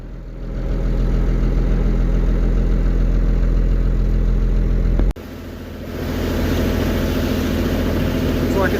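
A motorboat engine on Queen Charlotte Sound rumbles in a loud, steady low idle close by, briefly cutting out before settling back into the same continuous drone.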